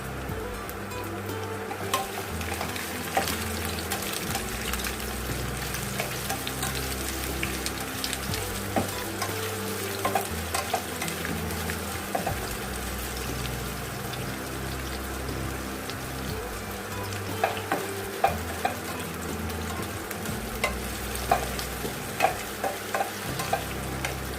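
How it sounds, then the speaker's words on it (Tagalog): Onion and garlic sautéing in a pan with a strong, steady sizzle and frequent scraping stir strokes, close and continuous for the whole stretch, no voices. "Sibuyas at bawang po, gigisahin natin."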